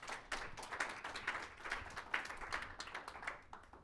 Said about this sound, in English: Let's give Lee a round of applause for his thank you.